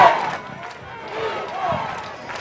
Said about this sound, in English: The crowd is back into it.